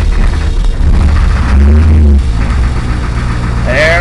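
An International Thomas school bus diesel engine runs just after a cold start, a loud, close, throbbing low rumble that swells briefly midway before settling into a rough idle.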